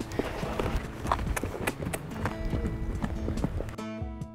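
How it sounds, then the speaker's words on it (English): A rescued horse trots on a hard surface, its hooves clip-clopping in a steady quick rhythm, close and loud, before a short musical sting cuts in at the end. "Can I watch him trot away from me and trot back?"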